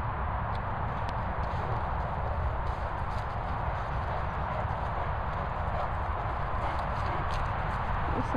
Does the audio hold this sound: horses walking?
yes